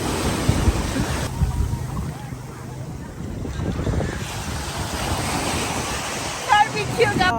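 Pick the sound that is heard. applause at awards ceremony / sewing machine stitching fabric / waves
waves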